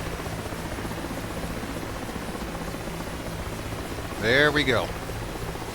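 Mi-8 helicopters in the video game DCS World give off a steady, even rotor and engine drone throughout, with a short burst of voice talking over it near the end.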